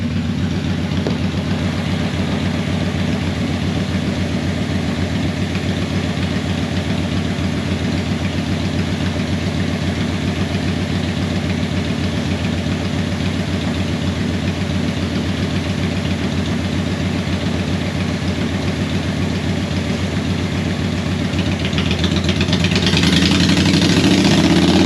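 A 2009 Kawasaki Vulcan 900 motorcycle running on a dyno, its engine a loud sustained steady drone that rises and swells near the end, with no voices.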